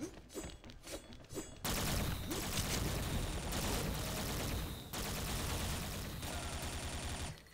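Rapid gunfire from a toy gun in an XSHOT game, dense continuous bursts with short gaps, loud and close, no talk.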